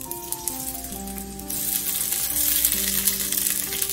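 Onions frying in hot oil, with a steady sizzle that grows louder partway through as the pan is stirred, under sustained background music tones.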